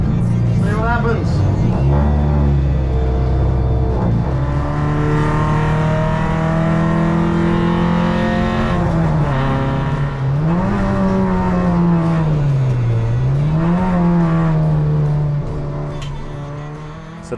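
Race car lapping a circuit in a qualifying session, engine loud and close throughout with repeated rising and falling revs through gear changes and corners, a continuous high-pitched drone.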